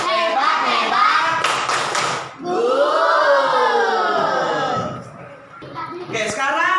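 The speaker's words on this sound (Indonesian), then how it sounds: "Kita tepuk jempol 3 ya, tepuk jempol." A group claps a quick burst of rhythmic beats amid loud chanting voices, then a final clap near the end.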